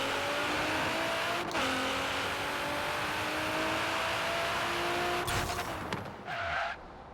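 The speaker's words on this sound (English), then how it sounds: "You just let go of the clutch and the e-brake," A Nissan GT-R in Forza Horizon 3 revs hard and launches, its engine roaring steadily at close range, with tire squeal and a gear shift near the end. No talk.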